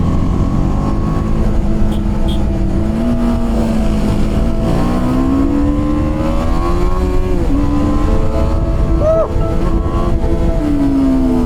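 An RS457 motorcycle engine revs hard and steadily, its pitch rising and falling in a continuous, loud drone with no pauses.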